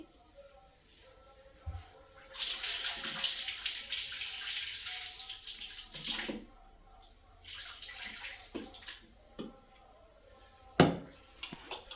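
Water pours in several short splashing bursts as soaking water is drained off rice into a sink, with quiet gaps and a few clinks between.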